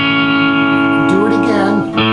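Overdriven electric guitar playing a riff in A, a sustained ringing chord with quick bending and trilling notes, loud and close with echo effects, no talking.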